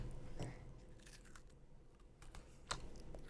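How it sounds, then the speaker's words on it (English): A cookie dipped in milk is bitten and crunched close to a microphone, with a few sharp crisp bites and softer chewing crackles at low volume and no talk. "Now let's do a cookie crunch on the mic."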